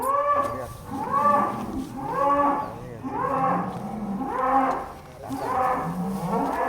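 A giant sacrificial Qurban cow at the livestock farm Dafi Farm moos about five times in a slow, regular rhythm. Each call is a loud, drawn-out, close bellow with short pauses between.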